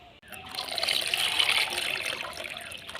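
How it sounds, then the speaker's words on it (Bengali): Water poured and swished over ash gourd paste while rinsing it for lentil dumplings, a steady close trickle and splash that swells for about a second and a half and then eases off. "এভাবে অল্প অল্প জল দিয়ে চাল কুমড়োটা আমি ছ সাতবার ধুয়ে নেব"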